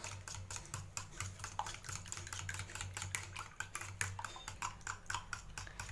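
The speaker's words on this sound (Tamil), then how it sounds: "இப்போ இது நல்லா மிக்ஸ் பண்ணி விட்டுடலாம்." Quick, faint, rhythmic clicking and tapping of a utensil mixing an egg mixture in a bowl, steady and close with a low hum underneath.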